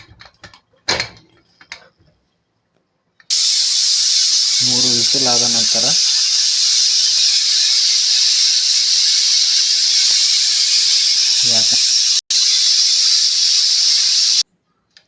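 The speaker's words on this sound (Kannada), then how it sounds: "ಕುಕ್ಕರ್ನ ಮುಚ್ಚಳವನ್ನು ಮುಚ್ಚಬೇಕು" A loud, steady hiss of steam escaping a pressure cooker runs unbroken for about eleven seconds, with brief speech and a few clatters before it starts.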